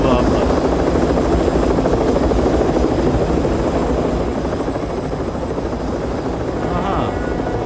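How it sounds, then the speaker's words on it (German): A video game helicopter drones loud and steady from start to finish, its rotor thrum and engine buzz close and unbroken, with some talk faintly underneath. "Hinter dir ist der Helikopter und du siehst es nicht überhaupt"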